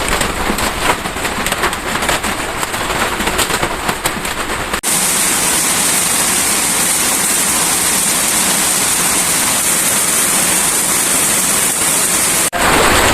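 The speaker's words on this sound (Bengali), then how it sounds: "গাইস, আবার কঠিন বৃষ্টি শুরু হয়ে গেছে।" Heavy rain pours down in a steady, dense roar, rougher and more broken at first, then a thick, even hiss that stays loud and close until it drops at the end.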